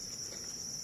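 Crickets on an Indonesian cricket farm, a dense, continuous high chirring trill held steady at moderate loudness, with no voices.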